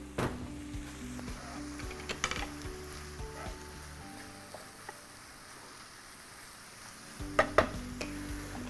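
Chicken with mushrooms sizzling in a pan for a creamy chicken dish, with soft continuous frying hiss and intermittent clinks and scrapes of stirring against the pan.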